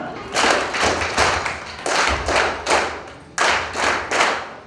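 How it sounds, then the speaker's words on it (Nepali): An audience at a Rotary club installation ceremony claps in unison in short rhythmic bursts of three, the loud sets repeating steadily and close by with brief pauses between. "एक पटकमा 3 पटक र त्यो 3 पटक फेरि भनेपछि 9 पटक हामी ताली बजाइन्छ।"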